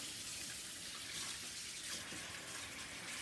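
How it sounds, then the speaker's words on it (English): Hands being washed under a running kitchen tap, a steady, even rush of water that continues alone, moderately quiet and close. "So I'm just going to wash my hands off."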